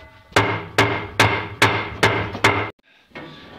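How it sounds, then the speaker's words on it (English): Six sharp metallic hammer blows in a steady rhythm on a stuck Fisher and Paykel Smartdrive washing machine bowl, close and loud, followed by a brief pause and a faint ringing clatter. "This one isn't moving, so I need to get a hammer."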